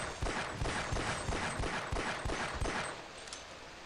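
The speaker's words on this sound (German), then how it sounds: "Ja toll, der schießt schon wieder auf mich da hinten." Rapid automatic gunfire from the video game Half-Life: Opposing Force, a steady stream of sharp shots rattling for about three seconds before trailing off, moderately loud with no talk over it.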